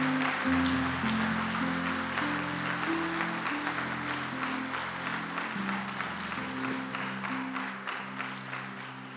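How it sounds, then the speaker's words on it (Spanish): Congregation applause in church during a sermon, steady clapping over sustained keyboard or organ chords playing underneath. "Dale un aplauso al Señor."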